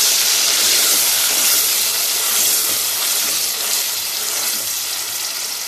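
Onion paste fries in hot oil in a pan for a white chicken karahi, giving a steady, loud, close sizzle and hiss that holds evenly throughout with no voices over it.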